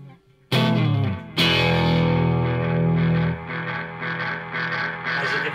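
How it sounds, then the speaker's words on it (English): A guitar signal pushed through a Caline Ghost Rain reverb/delay pedal swells into loud, sustained self-oscillating feedback, a dense droning wash of repeats that holds steady, then pulses and wavers at slightly lower level. "There's your feedback, and it oscillates quite well too."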